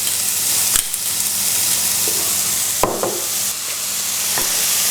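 Onion mixture with salt, black pepper and spices sizzles in a pan for a Thai dish, a constant close frying hiss broken by a few sharp clicks of stirring.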